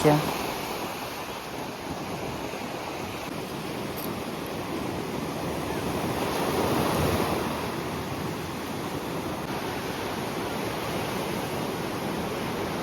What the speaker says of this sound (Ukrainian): Ого, яке сьогодні море. Шторм, хвилі високі.